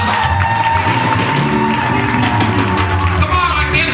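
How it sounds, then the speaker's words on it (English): Outdoor crowd at a sister-city gathering between Lowell and Nairobi cheering and applauding loudly and steadily, a dense roar of voices and claps with no pause. "Give this man a round of applause."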